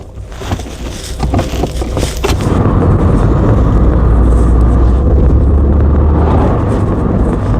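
A Mk3 Vauxhall Cavalier pulling away on a test drive, heard from inside the car: a few loud clicks and knocks at first, then a steady, loud engine and road drone that holds to the end, with no talking.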